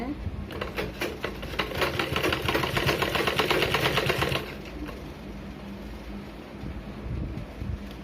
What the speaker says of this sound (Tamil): துணி இழுக்காதீங்க, மெதுவாக மடித்து தைங்க